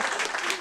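Audience at a podcast panel at a gaming convention claps in a short, dense burst, steady and fairly loud from start to end.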